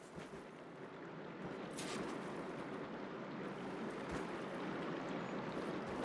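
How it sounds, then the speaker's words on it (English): Water rushes steadily through a room in the game Horizon Forbidden West, a broad, continuous hiss and gush that swells slightly after the first second and then holds even, with no voices. "Aloy, I can hear water in the room again."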